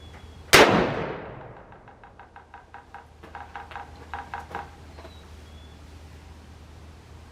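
A single loud gunshot from a restored WW2 Carcano rifle fired outdoors, a sharp crack with a decaying echo, followed by faint rapid clicking and rustling afterward.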